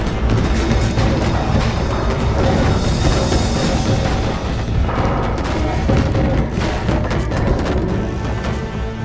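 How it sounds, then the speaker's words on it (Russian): Cannon fire in a historical battle film, heavy booming blasts rolling over one another amid dense, loud battle noise for the whole stretch. "Установить пушки и нацелить на корабли врага."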